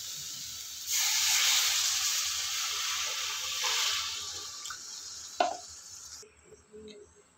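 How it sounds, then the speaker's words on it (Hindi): Water pours into a hot pan of cooking raw banana sabji with a loud hiss and sizzle that gradually fades, followed by a brief clatter and softer bubbling. "अभी हम इसमें पानी ऐड कर देंगे"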